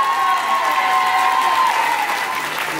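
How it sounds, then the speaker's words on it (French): A live audience breaks into sustained, dense applause that stays steady and loud for the whole stretch, with a faint crowd murmur and light cheering mixed in. "Un tonnerre d'applaudissements."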